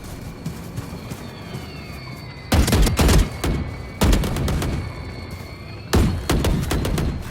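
Gunfire in the Valorant video game on PS5 comes in several loud, rapid bursts of automatic fire, separated by short gaps over a low ambient game background.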